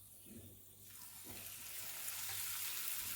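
Wheat-flour gingerbread men dropped one by one into hot oil fry with a steady, broad sizzling hiss that swells slightly louder as it continues, heard alone without talk.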